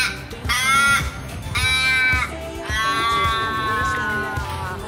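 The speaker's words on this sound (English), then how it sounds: "the ravens. They're beautiful, and the noises they make you laugh" Australian ravens on Rottnest Island give loud, drawn-out, wailing caws, three long calls in a row heard up close, with faint voices in the background.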